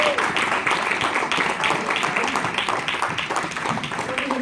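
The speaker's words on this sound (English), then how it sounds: "Let's give a round of applause, ladies and gentlemen." Seminar audience giving a round of applause, a steady dense wash of many hands clapping throughout, fairly loud and close, with possible voices mixed in.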